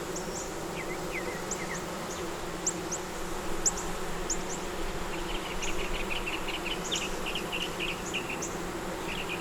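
Honey bees buzzing around frames of brood and eggs lifted from a hive, with a steady low drone of many bees and high darting wingbeat buzzes passing near and away throughout.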